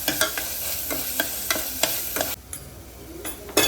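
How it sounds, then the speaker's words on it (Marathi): Onion-coconut masala paste roasting in oil in a pan for a Maharashtrian dragon stalk yam (shevla) curry, with steady sizzling and repeated scraping strokes of a stirring spoon, close and clear, no talking. "आता ते छान तेल सुटेपर्यंत भाजून घेणार आहे"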